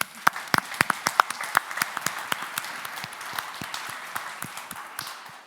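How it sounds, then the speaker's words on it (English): An audience at an automotive forum applauds steadily in a large room, scattered claps blending into a moderate, even wash of clapping that slowly thins. "Round of applause."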